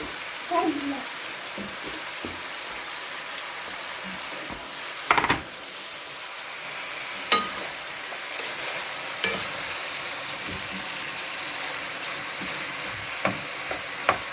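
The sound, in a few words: chicken frying in a pan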